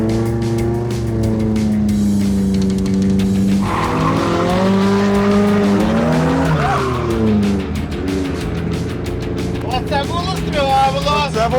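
Cars racing side by side in paired extreme runs, engines revving and shifting pitch loudly with tire squeal, while voices talk over the roar throughout.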